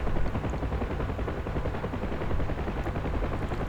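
Door gunners on a DCS Huey UH-1 helicopter fire machine guns in a steady rapid rattle that runs the whole stretch, blended with the helicopter's constant drone.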